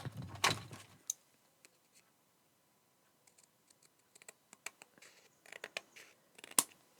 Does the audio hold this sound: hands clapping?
no